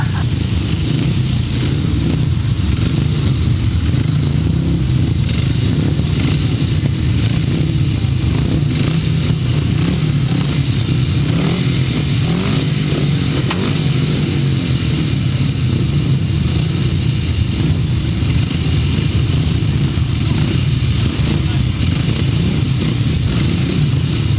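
Several 500cc solo motorcycles roar through a grasstrack heat at a British under-21 championship meeting, a loud continuous engine drone that rises and falls as the bikes race past, with no pause throughout.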